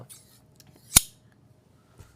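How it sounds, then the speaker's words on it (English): A single sharp snip from black-finish LDH scissors cuts through a quiet room, one crisp close metallic click standing alone with faint background murmur. "LDH Scissors in the black finish"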